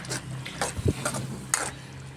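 Palak soppina gojju, a spinach gravy, bubbles in a pot on the stove, giving a few soft pops and bursts at an irregular pace, close and fairly quiet.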